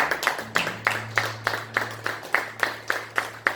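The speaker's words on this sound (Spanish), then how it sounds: "Dele un aplauso a Dios." A church congregation claps together in a steady, rhythmic beat, about a dozen even pulses, close and moderately loud with a faint low hum underneath.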